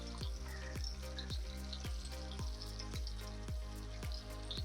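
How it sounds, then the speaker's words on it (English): Homemade wontons fry in hot oil for soup with a steady, bright crackling sizzle, and a regular thumping beat runs underneath. "wontons sizzling"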